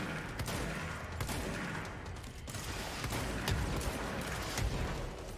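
Dense, continuous gunfire in the game Control, with overlapping rapid shots and mechanical clatter forming a loud, steady barrage throughout.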